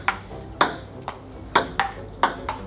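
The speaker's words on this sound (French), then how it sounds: "Petite partie de ping-pong" Ping-pong ball struck back and forth in a casual table tennis game: sharp, bright clicks in an uneven rally rhythm, about eight hits in under three seconds, close and clear over faint room noise.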